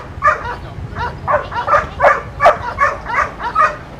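Several dogs bark and yip in quick succession at a dock jumping competition, a repeated mid-range burst of barks over steady crowd and ambient noise, fairly near and loud.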